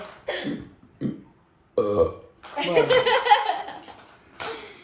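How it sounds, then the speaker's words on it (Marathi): A person lets out several loud, deliberate throaty burps close to the mic, separated by brief pauses, with chuckling and talk around them. "मी किती जोरात ढेकर येतो बघ"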